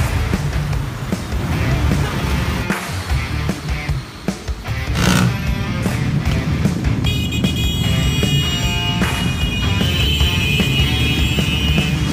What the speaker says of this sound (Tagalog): solid na yung traffic dito guys.